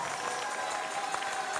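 At the Bocuse d'Or award ceremony, an audience applauds sponsors, a faint, distant, even patter of clapping from a large hall with a steady hum beneath it.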